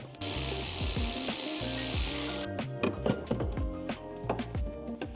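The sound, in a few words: removing car strut top nuts with a power tool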